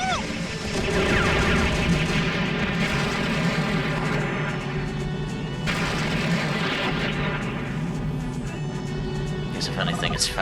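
Gunfire and explosions from combat in the video game Robotech: Battlecry come as dense rapid bursts and booms, loud and continuous. Game music and effects layer over them.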